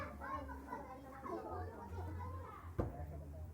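Kids playing outdoors in a busy neighborhood, their shouts and chatter layered in a steady lively murmur, with one sharp knock near the end.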